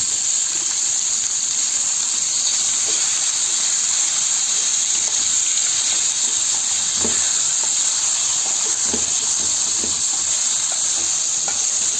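Goat meat frying on high heat in a pan with extra oil for a home-made goat curry, giving a steady, loud hiss and sizzle throughout with occasional pops and spits, no talking.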